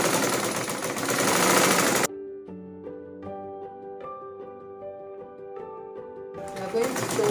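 A sewing machine runs in a short burst through stretchy turban fabric, its mechanical whir clear and fairly quiet, bracketed by louder broadband noise before and after.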